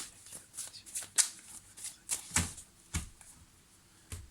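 Tarot cards are handled and shuffled in irregular bursts of crisp riffling and slapping, close and fairly quiet, with no voices.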